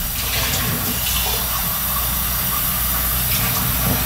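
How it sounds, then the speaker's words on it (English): Cold water runs steadily into a cooking pot holding a thickening cauliflower and cheese mixture, a continuous splashing pour with no talk. "I'm putting cold water in it."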